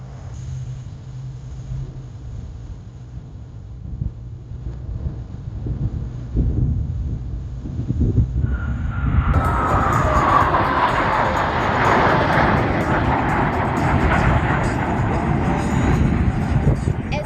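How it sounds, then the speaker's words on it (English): Five Blue Angels jets in a line-abreast flat pass at an airshow in Columbus, about 350 mph, swelling from a low rumble into a loud, broad jet roar that holds to the end. "From the right, at 350 miles per hour, the very difficult 5-plane line abreast flat pass."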